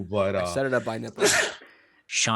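A single sharp sneeze bursts out between stretches of conversation, with people talking just before it and again right after.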